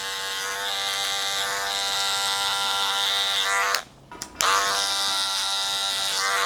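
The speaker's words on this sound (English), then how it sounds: "Just play with the lever again, clipper, open, close." An electric hair clipper buzzes steadily at close range during a medium-fade haircut at a barber school, a bright continuous whine that cuts out briefly near the middle and then resumes, with no talking.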